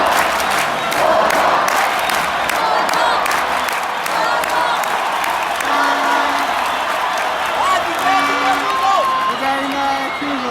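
Moroccan fans in a packed stadium roar and chant the Morocco goalkeeper's name during pre-match warm-ups before a game against Brazil, a loud, continuous wall of crowd voices with rising chanted tones.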